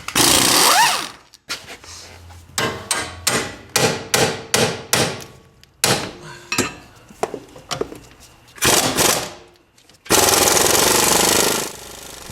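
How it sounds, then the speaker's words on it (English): Loud pneumatic tool bursts in a home garage during a Honda front strut replacement, a compressor-driven impact gun rattling in repeated short hammering blasts, then a steady roaring compressor run near the end, with no talk. "when the compressor kicks on, there's no point in trying to talk"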